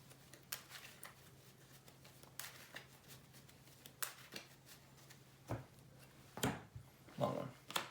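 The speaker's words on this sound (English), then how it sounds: "and then shuffle your deck" A Yu-Gi-Oh! card deck is shuffled by hand, giving repeated soft riffling bursts and papery slaps at close range over a faint steady hum.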